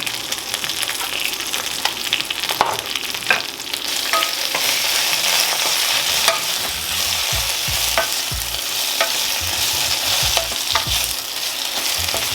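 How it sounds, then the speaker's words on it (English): Spinach cooks in a hot pan, sizzling and frying steadily while a utensil stirs it with repeated scraping clicks and rustles, loud and close, with no voices. "Now that we have our second batch of the spinach cooking"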